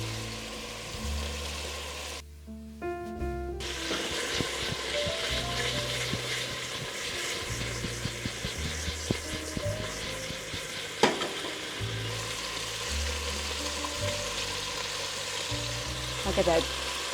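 Bison meatballs fry in a pan with a steady, close sizzle and crackle that runs throughout, punctuated by a few clinks and scrapes.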